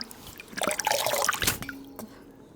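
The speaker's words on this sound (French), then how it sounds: "Je vais faire une cuillère avec mes mains. Et là, je vais rincer comme ça." Water splashes and trickles as cupped hands rinse a face, a close wet dribbling burst that swells in the middle and then tapers to quiet drips.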